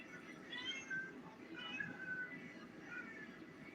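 A pet cat named Coachy meows indoors in several soft, drawn-out cries over a few seconds, faint against low background hiss.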